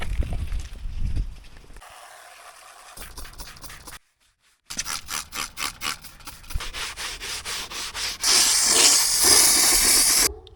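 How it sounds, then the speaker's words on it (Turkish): Scraping and rubbing noises while cleaning a BMW car's interior and mats, then a loud, steady hiss from a steam cleaner that starts abruptly near the end and holds. "Buharı taktık şimdi kaynıyor."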